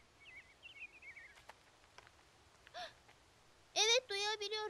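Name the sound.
birds calling outdoors, cartoon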